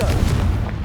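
A Confringo fire spell explodes in Hogwarts Legacy with a loud, dense, rumbling boom that stays heavy for just under a second.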